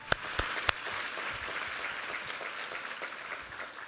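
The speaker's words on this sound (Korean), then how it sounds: "우리 하나님께 감사와 영광의 박수를 드리겠습니다." Congregation applause fills a church after a Sunday sermon, a steady dense wash of clapping that opens with a few sharp louder claps and carries on evenly at moderate distance.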